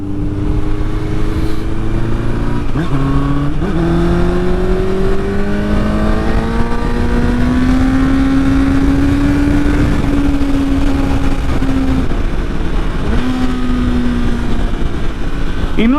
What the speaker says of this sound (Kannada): ಡೌನ್ ಶಿಫ್ಟ್ ಮಾಡೋದೇ ಮಜಾ ಬುಮ್ ಬುಮ್ ಕ್ರೇಜಿಯಾಗಿ ಬರುತ್ತೆ ಸೌಂಡ್ ಅದು ಡೌನ್ ಶಿಫ್ಟ್ ಮಾಡಿದಾಗ